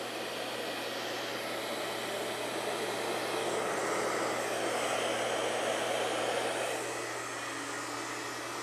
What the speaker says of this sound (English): for the blow dryer, what I like to do is I'm gonna keep it on cool because I don't wanna add any kind of heat to this